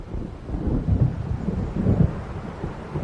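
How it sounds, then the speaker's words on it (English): Low rumbling thunder from a storm in the video game Alan Wake rolls in two swelling waves over a steady bed of rain and wind noise. "It seems there's a storm coming"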